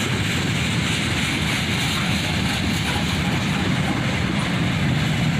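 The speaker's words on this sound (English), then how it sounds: "This was J782 out of Cincinnati and pulling into Needmore Yard." CSX freight train J782 out of Cincinnati, led by four EMD locomotives, rumbling steadily and loudly into Needmore Yard as it slows, a constant close roar of engines and rolling cars with no talking.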